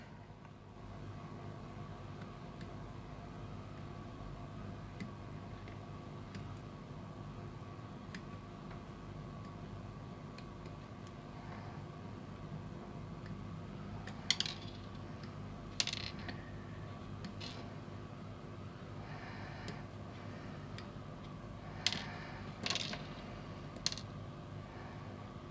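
Gundam model kit parts are snipped off their plastic runners, a few sharp close cutting clicks standing out over a faint steady background hum. The clicks come irregularly in the second half with no talk.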